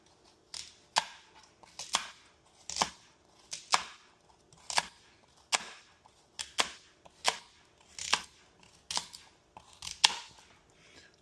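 A knife chops carrots for a crockpot goat stew. Crisp, evenly spaced chops hit the board about once a second, close and clear, with no talk.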